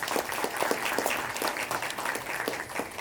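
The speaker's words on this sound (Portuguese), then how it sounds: "vamos aplaudir!" An audience at a real estate talk event applauds with a dense, lively clapping that stays even and fairly close for a few seconds.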